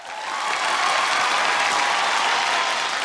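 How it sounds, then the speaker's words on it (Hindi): Studio audience at a Hindi comedy show breaking into applause, clapping swelling quickly and holding steady and loud to the end. "तालियां।"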